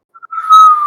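A single clear whistle made by a human voice, imitating an incoming projectile: a couple of brief chirps, then a steady, loud, near tone held for under a second.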